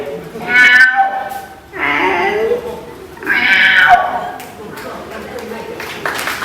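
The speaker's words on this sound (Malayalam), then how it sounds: "ഒരു 2 പൂച്ചകൾ, ഒരു നാടൻ പൂച്ച" Two cats, one a local country cat and the other a larger cat, meow nearby in about three drawn-out, falling cries spaced a second or so apart, loud and close.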